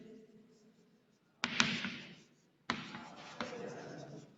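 Marker or chalk scraping across a classroom board in two bursts of writing strokes, close and fairly loud, with a quiet pause between them and no talking over the strokes.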